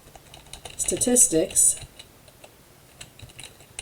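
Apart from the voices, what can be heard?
typing on a computer keyboard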